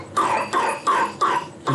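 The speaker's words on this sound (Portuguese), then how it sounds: "Ele começou a tossir aqui." A young boy coughs five times in a steady series, each cough close and fairly loud, with short pauses between them and nobody speaking.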